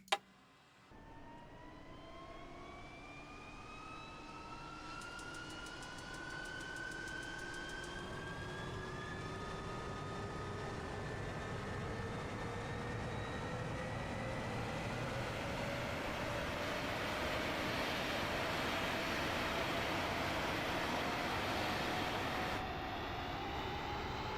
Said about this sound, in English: so we're going to start engine number 2